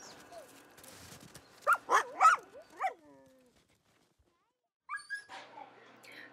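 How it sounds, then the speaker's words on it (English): Sled dogs barking, yelping and whining excitedly before a mushing run, with a burst of close high yelps that fades into a quiet gap before a few more whines, while a voice talks over parts of it. "You can see Sapphire is just screaming her head off"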